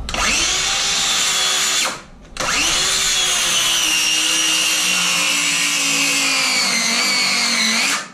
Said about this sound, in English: So anyway, this old circular saw.